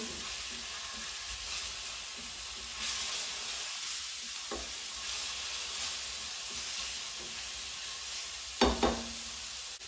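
Garlic cloves sauté in a pan for a vegan pasta salad, giving off a soft, continuous sizzle with faint stirring noises. A brief utensil knock sounds near the end.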